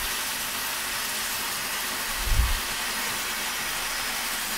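A Modern M-608 8-inch table saw with its stock blade runs at a steady, unbroken whir, with a brief low thump midway and no dip in speed.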